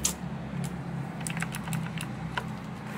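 Close, crisp clicks of typing on a Razer BlackWidow Ultimate 2016 mechanical keyboard come in an irregular burst of keystrokes over a low background hum.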